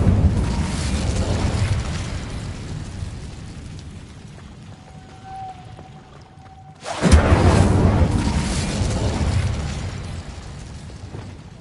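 An Incendio fire spell in Hogwarts Legacy bursts out with a sudden loud whoosh and boom after a quieter lull, then settles into a crackling, rumbling roar.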